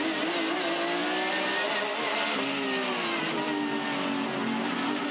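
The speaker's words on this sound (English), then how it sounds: "Getting on the throttle here" Porsche 911 GT3 R race car in the 2017 Australian GT at Adelaide, its engine howling loud and close from on board as the driver gets on the throttle, rising harmonics climbing steadily through the gears without pause.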